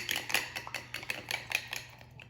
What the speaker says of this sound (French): je casse mon œuf dans un verre. Là, je vais mélanger